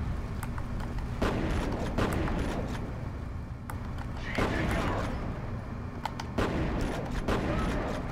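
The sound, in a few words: grenade explosion and gunfire in video game F.E.A.R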